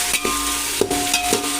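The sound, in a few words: onion and tomato frying in oil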